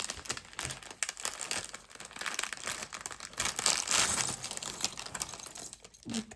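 A plastic LEGO City parts bag crinkles and rustles as it is handled and torn open, giving sharp irregular crackles that grow louder midway and then trail off, heard close up and quiet.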